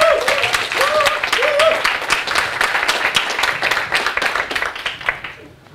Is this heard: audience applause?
yes